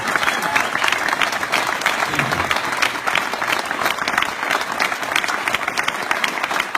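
A crowd gives a round of applause for director James Gunn at a live event, a dense, sustained clapping that stays loud and even throughout, with a little crowd noise mixed in.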